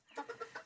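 A rooster gives a brief burst of four or five quick clucks, close by and fairly quiet.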